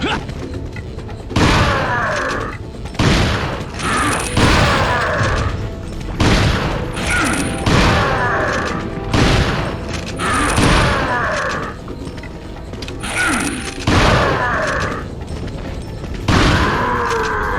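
Shotgun blasts boom repeatedly in the video game Resident Evil 4, heavy loud thuds arriving every second or two across the stretch, with game effects ringing between them.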